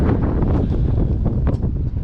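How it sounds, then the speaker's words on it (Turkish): Heavy wind buffeting a microphone, a continuous loud low rumble with gusty surges throughout. "Biraz rüzgar var sesim gelmeyebilir."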